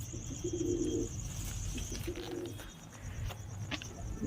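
Pottas line pigeon cooing at close range, a few low throaty coos repeating at an uneven rhythm over steady background noise, with faint chirps from other birds.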